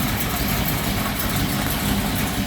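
A 1964 Chevrolet Bel Air two-door post's engine idles steadily, a dense low rumble held at a constant level for the whole stretch with no talking.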